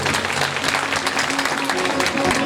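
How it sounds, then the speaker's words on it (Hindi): A crowd at a Shrimad Bhagavat Katha religious gathering claps steadily and enthusiastically, dense, even applause that continues throughout without letting up. "एक बार जोरदार ताली से।"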